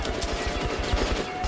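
Rapid automatic gunfire from a weak gun in Metro: Last Light Redux, a steady close burst of about a dozen shots in quick rhythm, loud and alone.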